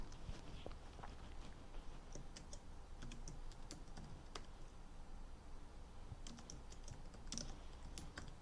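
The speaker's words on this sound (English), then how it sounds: "and we'll type in" Typing on a computer keyboard in a quiet room: soft, irregular clusters of key clicks run throughout, close and faint.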